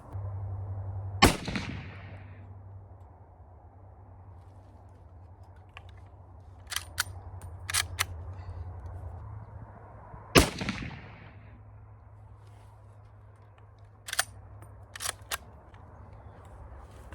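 A Savage 99 rifle chambered in .308 fires two sharp, loud shots several seconds apart from a bench with a bag rest, each followed by a brief echo, with clicks of the lever action handled between them.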